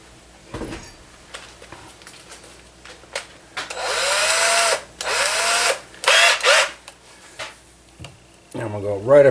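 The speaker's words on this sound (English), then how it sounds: "So let me get a small bit, drill a hole there." Small bit drilling a hole in a gun part at a gunsmith's bench: a power drill whines in several bursts of rising and falling pitch, close and fairly loud, with short pauses and handling noises between.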